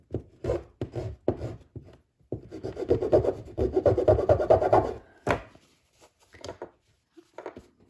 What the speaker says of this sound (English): If you want to sand it down some.